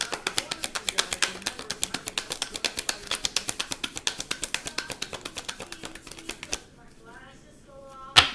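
Tarot cards are shuffled by hand in a fast, even run of crisp taps and slaps for about six seconds, then the shuffling stops. The sound is close and fairly quiet.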